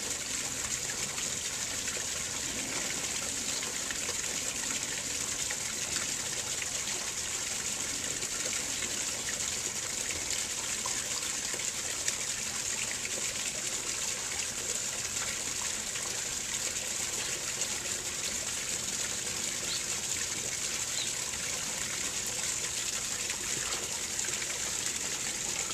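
A waterfall pours in a steady, unbroken rush of water, loud and constant throughout with a bright hissing spray and no voices.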